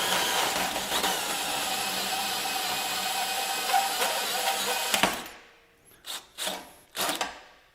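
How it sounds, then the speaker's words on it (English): A power drill with a lubricated cutter notches a metal tube during motorsport fabrication, giving a loud, steady grinding whir for about five seconds that cuts off abruptly, followed by a few short, separate bursts. "All right, so now I've got my drill in here."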